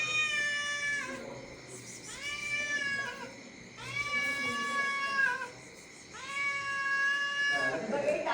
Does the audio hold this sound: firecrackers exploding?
no